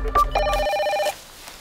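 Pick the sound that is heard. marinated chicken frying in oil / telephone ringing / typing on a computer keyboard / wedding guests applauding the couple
telephone ringing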